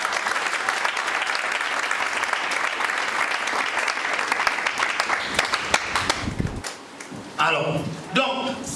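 A church congregation applauding during a sermon: dense, sustained clapping from a crowd that tapers off after several seconds, followed by a few brief voices.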